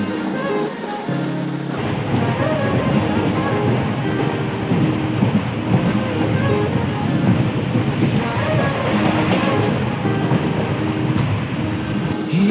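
A train running through Upper Assam toward the Arunachal border, heard from inside as a loud continuous rumble with rattling and wind-like rushing that holds steady for about twelve seconds.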